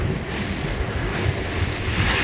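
Waves pound a passenger launch, the Surabhi 7, on the stormy Meghna river, a loud continuous roar of surf, splashing water and buffeting wind noise with no talking.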